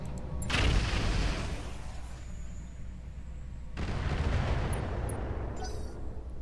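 Roguetech mech weapons fire at an enemy mech in two heavy bursts of booming gunfire and explosions, the first at about half a second and the second near four seconds, with quieter rumble between them.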